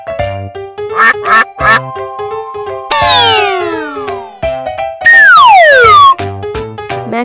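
A duck quacks three times in a quick cluster over light background music, followed by long swooping descending whistle-like sound effects.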